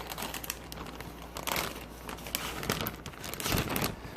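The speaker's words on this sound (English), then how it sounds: "it's just a simple matter of cutting off the plastic" Plastic wrap being cut and peeled away from a rolled meat fattie, a busy run of close crinkling and crackling with scattered sharp snips and rustles.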